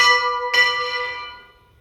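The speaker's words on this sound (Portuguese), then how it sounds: "a hora que você gira o sino ele dá 2 pancadas" A church bell, clapper hanging inside, swung through a full turn and striking twice: two loud, close bright clangs about half a second apart, with a long shimmering ring fading afterward.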